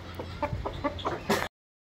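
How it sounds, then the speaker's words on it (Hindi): A rooster and hen let out of their coop cluck in short repeated bursts at close range over steady background noise, ending abruptly. "तो देखें मुर्गा मुर्गी दोनों बाहर आ गए।"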